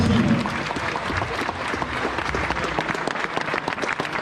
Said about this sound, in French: Sincèrement, encore un applaudissement.